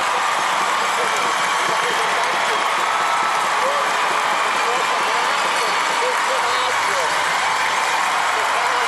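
Sustained applause from a crowd of 6,000 spectators at the 2011 European figure skating championship, a dense, steady wash of clapping filling the arena evenly for the full stretch, with no clear breaks.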